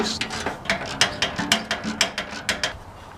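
A ratchet wrench loosens half-inch bolts on a Massey Ferguson T20 tractor near the tool well: a quick, even run of about fifteen crisp mechanical clicks, close and moderately loud.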